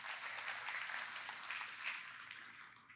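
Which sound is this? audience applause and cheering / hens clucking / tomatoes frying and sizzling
audience applause and cheering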